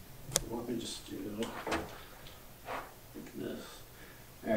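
Worn household doors being opened and closed produce a few clunks and knocks, scattered between bursts of people talking nearby.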